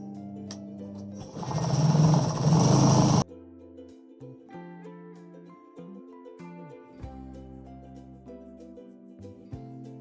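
A sewing machine stitching darts on a saree blouse, a loud steady whirring run of about two seconds, then quieter with music playing underneath.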